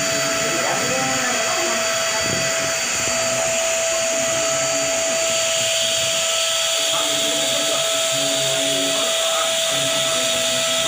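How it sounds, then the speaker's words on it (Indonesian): A vacuum cleaner runs steadily and loudly throughout, a constant broadband whine with a sustained tone, while people talk underneath it. "Itu vakum berarti. Vakum itu kan?"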